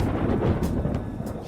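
Thunder in the video game Persona 5 Royal: a loud, low rumbling roll lasting the whole moment, with a few faint crackles on top and no voices.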